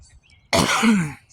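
A single harsh, close cough with throat clearing bursts out loudly after a short quiet pause and then trails off, with no speech.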